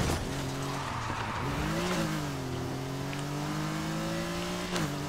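A Porsche 911 racing in NFS Heat, its engine droning steadily and loud with pitch shifts as it changes gear, under a continuous rush of tire and road noise throughout.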